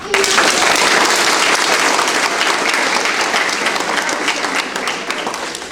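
Audience at a third grade art awards event breaking into dense, loud applause that holds steady and then eases slightly toward the end.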